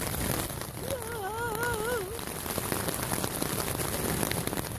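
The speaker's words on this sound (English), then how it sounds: "It's hailing, as you can hear." Hail pattering steadily onto a tent during a thunderstorm on the John Muir Trail: a dense, close, constant hiss of impacts, with a wavering voice briefly heard over it.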